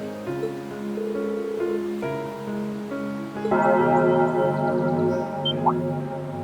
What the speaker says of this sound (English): Is that the old schoolhouse's bell?